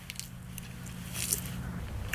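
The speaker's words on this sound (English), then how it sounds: "There's the crunch. You hear it." A single crisp crunch of a bite into firm Florida citrus fruit, with faint chewing and moist crackle around it; quiet and close, no talking.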